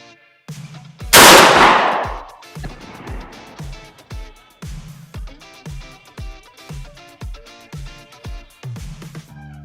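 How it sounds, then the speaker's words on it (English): A 12 gauge shotgun loaded with double-aught buckshot fires through a sheetrock wall in one sharp, very loud blast that rings out, followed by a steady series of lighter rhythmic thumps. "This is to demonstrate a sheetrock wall versus 12 gauge with double up buckshot."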